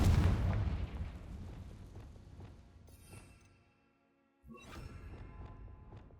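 A Confringo spell blast in Hogwarts Legacy opens with a heavy boom that rumbles and fades over several seconds, then a second fiery burst erupts sharply after a brief near-silence.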